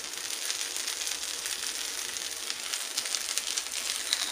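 A mashed potato pancake frying in a pan sizzles and hisses steadily throughout, a dense, even crackle with no talk over it.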